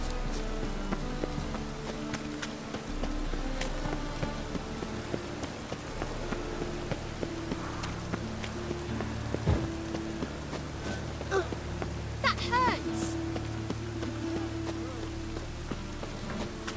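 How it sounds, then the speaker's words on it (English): Steady rain falls in The Witcher 3: Wild Hunt game world, a continuous soft patter on surfaces with a low ambient rumble beneath and a few faint incidental sounds, no one speaking. "It's raining again."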